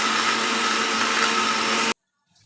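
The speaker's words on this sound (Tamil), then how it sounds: "இப்போ மிக்ஸி ஜாரை நல்லா ஓட விட வேண்டியது தான்." A mixer grinder blending pineapple milkshake in its jar, a loud, continuous whirring roar that runs steadily and then cuts off abruptly near the end, with no voices.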